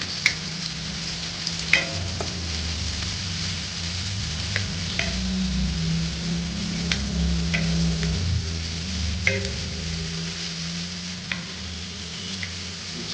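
Chopped onions fry for Mangalorean chicken sukka in a pan, giving a loud, steady close sizzle throughout, punctuated by occasional sharp ticks of a utensil against the pan.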